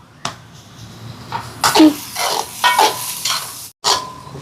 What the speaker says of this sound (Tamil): இப்போ வெங்காயம் எல்லாம் நல்லா வதங்கி வருது.